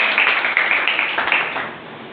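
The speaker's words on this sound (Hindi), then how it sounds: "दीक्षा मगर, जोरदार तालियों से स्वागत।" An audience claps warmly for a student, Diksha Magar, at a school event in Betul: dense, even applause that stays steady, then thins slightly near the end.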